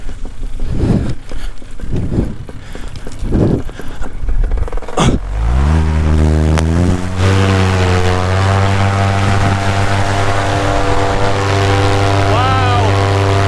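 A small propeller aircraft's engine powers up for a takeoff from a tight spot, roaring loud and close in a steady, harmonic drone whose pitch climbs. Voices are heard briefly before the engine takes over.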